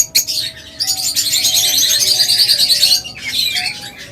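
Many caged lovebirds and cockatiels at a bird sale, a dense chorus of chirps and squawks continuing steadily and loudly, with a short dip near the end before resuming.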